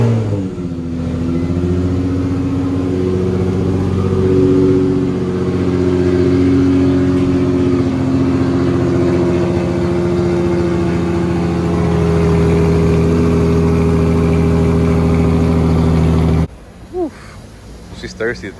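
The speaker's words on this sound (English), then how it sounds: "And of course, I gotta give you guys a cold start." A car engine cold start settles into a steady, loud idle with a droning hum held for about sixteen seconds, then cuts off abruptly, leaving light handling noises.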